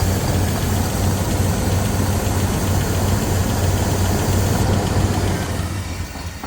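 A 1995 Chevy G20 conversion van engine running right after its first start in 15 years, a loud, steady rough idle with low rumble and knocking texture, close up, easing off slightly at the end.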